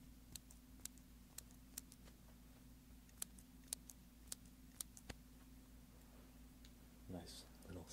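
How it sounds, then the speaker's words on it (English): A mechanical pencil clicked over and over close to a binaural microphone, sharp isolated ticks at an uneven pace over a low steady hum, ending with a brief rustle of handling. "Here's a mechanical pencil."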